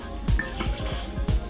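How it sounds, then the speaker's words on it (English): Jamaican Wray and Nephew white rum poured from a three-quarter bottle over fruit soaking for Christmas fruitcake, with splashing drips and gurgles close by in short bursts, and a brief voice in the background. "I'm gonna be pouring all of it"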